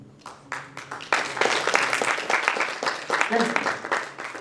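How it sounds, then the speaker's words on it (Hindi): An audience applauds after a Hindi stage production of a Mahabharata-based play, with dense, steady clapping that swells after the first second while a voice speaks over it. "तालियों में कमी नहीं होनी चाहिए।"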